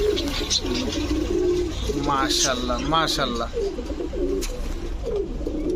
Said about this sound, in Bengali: গলা কষা পাকিস্তানি বাবরা কবুতর